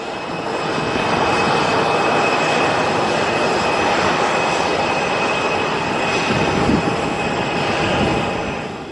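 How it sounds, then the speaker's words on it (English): An airliner rolls for takeoff at Luton Airport on a summer evening, its jet engines a loud, steady, broad roar with a whining tone, rising in at the start and easing slightly at the end. "this is the aircraft that we got away from, folks. Just taking off. We're just rolling."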